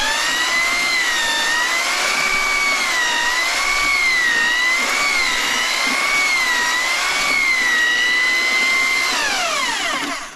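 Power mixer churning screed mud in a bucket, a loud steady motor whine whose pitch wavers as the paddle loads and frees, then winds down at the end.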